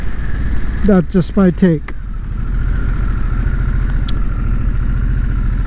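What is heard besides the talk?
Harley-Davidson Sportster S motorcycle engine idling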